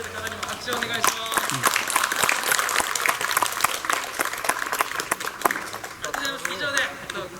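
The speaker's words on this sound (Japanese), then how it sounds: "参加してくれた方にも拍手をお願いします。" Audience applauding participants at a university aeronautical engineering open-campus engine run demonstration, a steady crowd of clapping sustained throughout, with voices mixed underneath.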